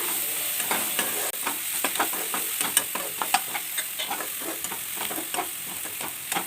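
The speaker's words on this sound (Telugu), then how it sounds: "ఉల్లిపాయలు అయితే మనకి ఫ్రై అయిపోయినాయి కొంచెం ఉడికిపోయినాయి" Onions with salt fry in a pan, a steady sizzle broken by a series of sharp stirring clicks and scrapes at irregular intervals, close and moderately loud.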